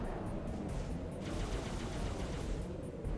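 Gunfire in Halo: Reach, a dense continuous fusillade of rapid shots crackling steadily and fairly loud throughout, with no talk over it.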